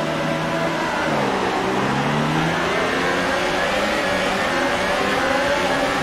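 A Red Bull Formula 1 car's engine in the racing game F1 2018 revs at the start of a race at Monza, a loud, continuous high-pitched whine with pitch sweeping down and up across other cars.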